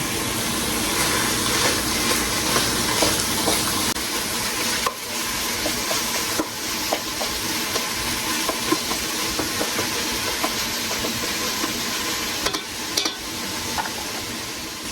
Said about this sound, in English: Our goal is to cook this pork until it is cooked through and is starting to crumble